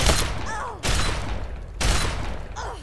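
Gunfire in the video game Fallout 3, three heavy booming shots spaced about a second apart, each with a long decaying tail and faint mechanical clatter between them.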